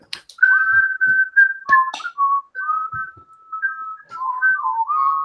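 A person whistles a wavering tune in clear, close notes, some sliding and some held, with short gaps between phrases and nothing else audible.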